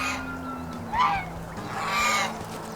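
Farm waterfowl call out in a few loud honking bursts over steady outdoor background noise, with no talking.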